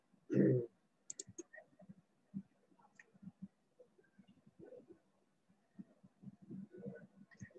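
A computer mouse clicks on a refresh button in business software: a few small, sharp clicks, spaced apart, with faint low murmuring between them.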